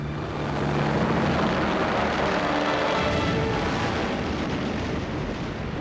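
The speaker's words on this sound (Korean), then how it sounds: "일본은 비행기로 공격을 개시합니다" Japanese World War II military aircraft launching an attack near Midway, a loud, continuous roaring engine drone with heavy rumble that stays steady throughout, with no voices.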